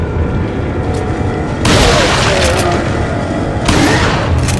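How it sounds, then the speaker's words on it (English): Shotgun blasts in Resident Evil 4, two loud booming bursts over a steady layer of game ambience, each with a sharp attack and a rolling tail. "good opportunity for the shotgun"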